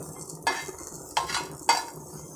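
Bitter gourd sautés in a pan under a soft background sizzle, with three distinct stirring scrapes of a utensil against the pan spaced roughly evenly apart.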